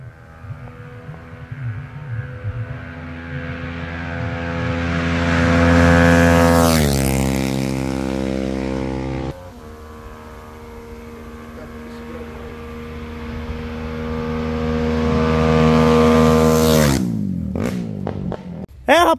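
A modified Honda CG motorcycle with a long-stroke engine on a dawn test run passes by twice, its engine note rising loudly as it nears and dropping in pitch as it moves away, with a brief burst at the end.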